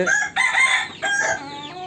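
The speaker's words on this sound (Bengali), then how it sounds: "একটি মুরগি তিন মাস প্লাস ইউরোপিয়ান সিল্কি একদম হাই কোয়ালিটি" A three-month-old European Silkie chicken gives a loud, close, brief crowing call with a couple of rising and falling segments.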